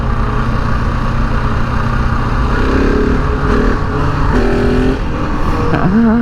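A 2021 KTM 690 Enduro R single-cylinder motorcycle engine drones loud and steady, rising slightly in pitch as it accelerates in the wrong gear, with wind rumble over the ride.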